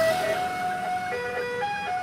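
A telolet-style musical vehicle horn plays a bright, sustained melodic tune of several held notes that shift pitch, loud and alone for about two seconds.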